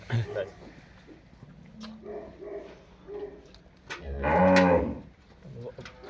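A buffalo lows loudly and nearby, a deep drawn-out moo following scattered voices talking in the background.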